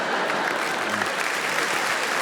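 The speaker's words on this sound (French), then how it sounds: "Il y a même des applaudissements." A comedy club crowd at the Casino de Paris claps in a full, steady wash of applause, loud and continuous throughout the short stretch.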